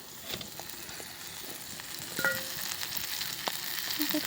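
Potatoes sautéing in a pan, a soft, fairly faint sizzle running throughout with occasional light stirring scrapes and small clinks.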